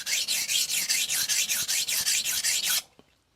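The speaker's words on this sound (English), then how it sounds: "This thing strips the metal off." A knife blade ground on a vitrified diamond whetstone, giving a loud, steady rasping scrape in quick back-and-forth strokes for nearly three seconds before stopping abruptly.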